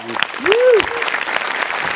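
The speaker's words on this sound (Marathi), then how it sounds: "जोरदार टाळ्या" Audience applause at a Marathi comedy show, a short burst of clapping mixed with a sung tone and voices.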